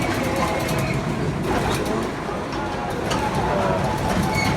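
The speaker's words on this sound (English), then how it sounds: "Whoa, train moving." Steady rumble inside a moving Amtrak Auto Train, continuous low noise with faint rattles and clicks, loud and close.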